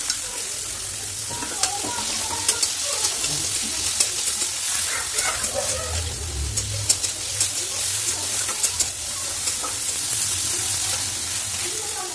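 Food fries in refined oil in a pan with a loud, continuous sizzle and crackle, punctuated by scattered pops and stirring scrapes, while a low murmur of voices runs faintly underneath.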